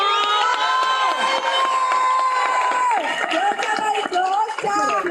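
A graduation ceremony audience cheers and whoops steadily, with scattered clapping, a dense crowd roar filling the hall, loud and continuous.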